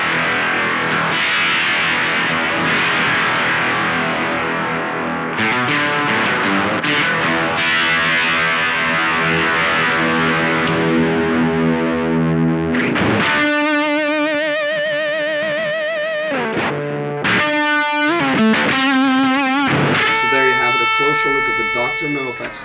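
Electric guitar played through a Dr. No Effects Octavia fuzz pedal, loud and distorted, moving from dense fuzzed chords to sustained octave-up single notes with wavering pitch bends, up close with no talking.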